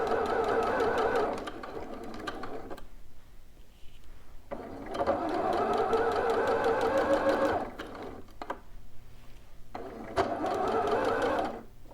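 A sewing machine runs along a dress sleeve seam in several separate bursts, each a steady whir of a couple of seconds, broken by short pauses and quick back-stitch spurts, close up.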